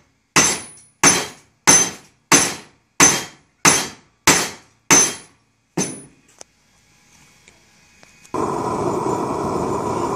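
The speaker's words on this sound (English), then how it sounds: "it's even easier to hammer it." Hot metal heated in a forge is struck by a hammer eight times in a steady rhythm, each ringing clang loud and close, followed by a couple of lighter taps, a quiet pause, and then a steady roaring hiss.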